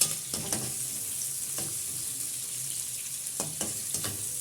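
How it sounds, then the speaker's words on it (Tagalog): Garlic and onion sauté in a pan with a steady sizzle, and occasional louder scrapes of stirring break through the frying hiss. "nilagay ko na yung bawang saka sibuyas"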